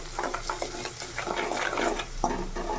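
Chili powder, salt, masala and turmeric fry in hot oil in a pan for a cabbage dish, giving a steady close sizzle broken by scraping stir strokes, with no voices.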